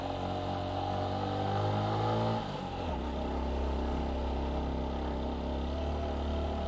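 A TVS Apache 160 4V motorcycle carrying a pillion rider runs with a loud, steady engine drone that drops in pitch midway as it shifts into second gear, then pulls on evenly.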